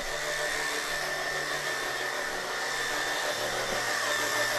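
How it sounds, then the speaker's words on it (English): A WORX sprayer spraying cleaner onto dirty carpet, a steady, loud, continuous hiss with a faint motor hum underneath, unbroken for the full stretch with no voices. "We're using the WORX sprayer."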